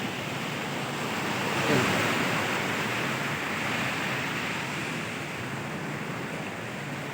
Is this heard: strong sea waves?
yes